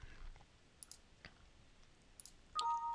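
A computer mouse clicking during document editing in SharePoint: several faint, isolated clicks spread across a quiet room, with no speech.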